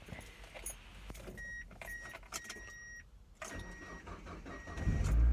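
A car engine cranks and catches at the very end after a clinking of keys and a few electronic dashboard chimes, all close and fairly quiet.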